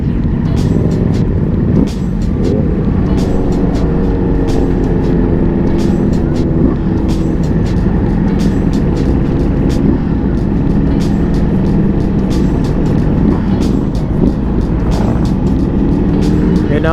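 Dense traffic of roughly two to three thousand motorcycle riders on the NLEX expressway, a steady loud wash of engine drone with repeated sharp ticks, continuous for the whole stretch.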